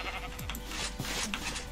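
A sheep bleats in a modded video game, a short faint bleat set against a steady background hum.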